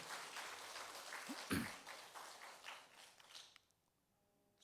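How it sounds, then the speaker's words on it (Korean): A church congregation claps together in a reverberant hall, a steady wash of applause that fades out toward the end. "다시 한번 박수 하겠습니다"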